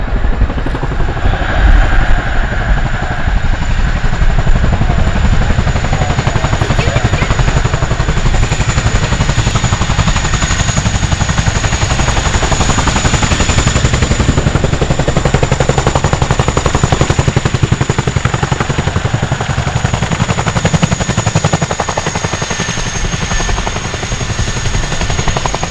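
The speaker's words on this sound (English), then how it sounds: "you'll see the tandem rotors of the Chinook used to bring the aircraft to a complete stop" A Chinook tandem-rotor military helicopter at an RAF air show display lands and brakes to a stop on its wheels, its loud, steady rotor thrum and turbine whine continuous and close throughout with no pause.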